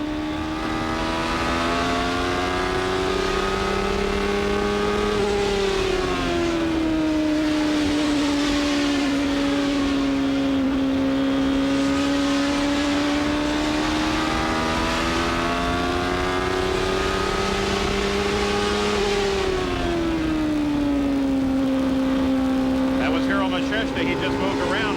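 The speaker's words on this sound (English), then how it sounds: "Let's just ride with this car and listen to how he controls the throttle." Onboard a CART Indy race car at the 1994 Milwaukee oval, the engine screams steadily at high revs throughout, pitch dipping and climbing as the driver lifts and feeds the throttle through the turns.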